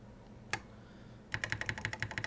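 Arrow keys on an Apple IIe computer keyboard click once, then after a pause tap out a quick, steady run of about a dozen crisp keystrokes, close and clear with no talking.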